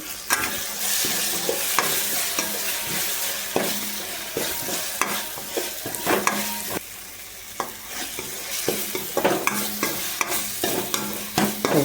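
Egg bhurji masala with turmeric frying in a pan, a continuous close sizzle broken by repeated spatula scrapes and taps in an uneven stirring rhythm.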